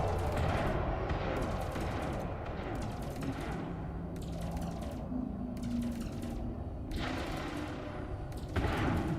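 Rapid bursts of shard cannon fire from a ship in the Elite Dangerous space combat game, repeated volleys with heavy thumping impacts running continuously at close range.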